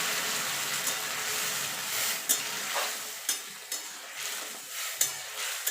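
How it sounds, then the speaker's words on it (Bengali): Lentils poured into a pan of fried onion and garlic for a masoor dal with jute leaves, giving a steady sizzle with sharp stirring clatters and spatula scrapes throughout, no voices. "পেঁয়াজটা ভাজা হয়ে গেছে। ডালটা ঢেলে দেবো।"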